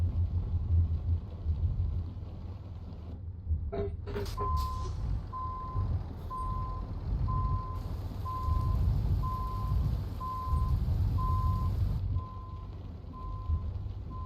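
Truck reversing beeper in Euro Truck Simulator 2, a steady evenly spaced series of beeps over a low engine rumble, with a short hiss like an air brake near the start.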